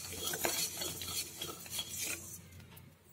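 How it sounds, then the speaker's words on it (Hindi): Sambhar spices dry roasting in a kadhai on a low flame give off a soft continuous rustle and gentle scraping as they are stirred, quiet and close, with no voices. "इसे बिल्कुल सीम आंच पर हम भूनेंगे।"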